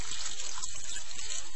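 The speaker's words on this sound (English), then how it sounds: "Now we're just going to cover it with water." Water poured from above into a pot of red kidney beans, a loud continuous gushing splash, close and unbroken, with no talking.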